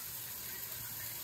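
Tap water streams steadily from a faucet, a continuous broadband hiss close by with no talk over it.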